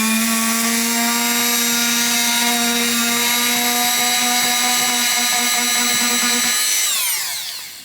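A Dremel rotary tool with a metal drill bit bores into plastic during a 3D LED moon lamp repair, giving a loud, steady high-pitched whine that holds for several seconds and then spins down as the motor stops.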